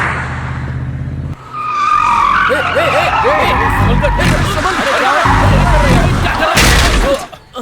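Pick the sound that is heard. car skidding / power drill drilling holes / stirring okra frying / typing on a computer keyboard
car skidding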